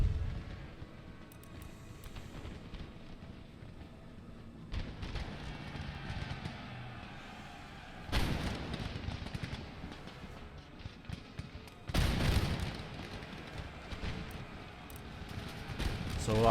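Musket volleys fired by rank in the Empire Total War video game, a battle scene with distant rolling rumble and three sharp crackling volley bursts spaced several seconds apart, fairly faint overall.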